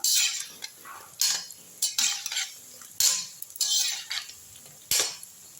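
A metal utensil stirs and turns white chickpea fritters frying in a pan with coriander, giving a string of sharp clinks and scrapes in uneven bursts, close and fairly loud.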